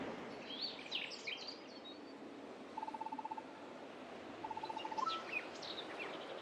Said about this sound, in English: Hey, look, birds!